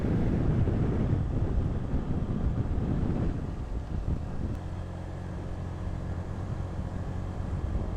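Strong wind roars and buffets the microphone continuously on a muddy mountain road in Malico, San Nicolas, Pangasinan, a heavy low rumble that stays loud throughout, with faint engine-like hum underneath.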